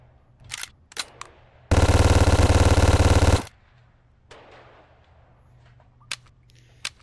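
A Vector submachine gun in the VR shooting game Gun Club VR fires one long, loud, rapid automatic burst lasting under two seconds, bracketed by a few sharp mechanical clicks and clacks of handling before and after.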